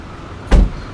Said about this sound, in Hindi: अगर आप देख सकते हैं गाड़ी का जो गेट खुल रहा है